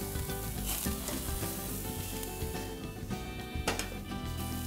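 Mushrooms, broccoli and zucchini sizzling steadily on a grill with harissa, a dense crackling hiss close up with a few sharper pops, no voices.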